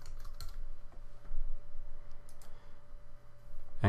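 An admin password going in on a computer keyboard, a few sparse, faint key clicks spread over a few seconds against a low, steady hum, ending in a louder click.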